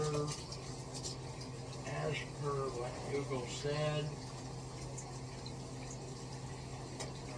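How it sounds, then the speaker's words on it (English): Kitchen tap turned on and running cold water, a soft steady rush heard faintly beneath someone talking. "Turning on the water to get cold water"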